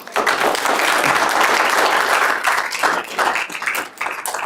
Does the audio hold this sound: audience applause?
yes